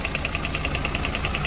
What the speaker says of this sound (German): Hört ihr das? Motor klappert die ganze Zeit.